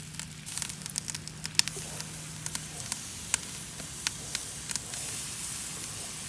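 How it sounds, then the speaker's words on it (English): Buffalo barbecue sauce is brushed as a glaze onto a smoked pork loin, giving a faint, steady wet sizzle with scattered soft ticks and dabs close by. "We're gonna go ahead and glaze the outside with our buffalo barbecue sauce"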